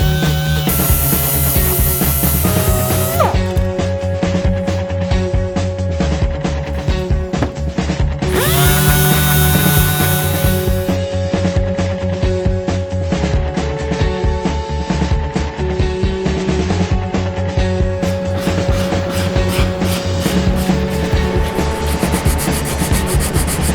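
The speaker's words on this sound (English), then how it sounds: "So now we're ready to sand it." A guitar neck for a Jerry Cantrell Rampage 24 build is sanded and shaped with a loud, continuous power-tool whine and steady abrasive rubbing that runs through the whole stretch. The pitch shifts now and then as pressure changes.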